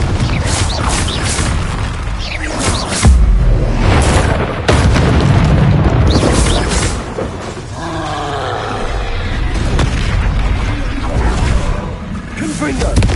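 Booming explosive spell blasts from the Confringo curse in a Harry Potter video game played on PS4, dense and loud over a busy mix of game effects and music, with a voice shouting spell names throughout.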